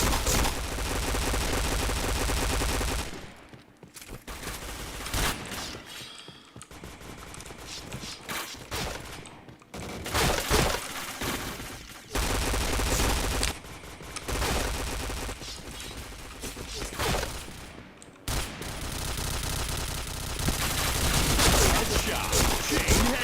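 A shooting video game fills the scene with dense, near-continuous gunfire in loud bursts separated by brief gaps, with game sounds layered over it and a voice speaking now and then.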